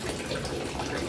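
Dirty water pours out of a third-floor fishpond as it is drained, a constant, close, splashing gush with an even level throughout.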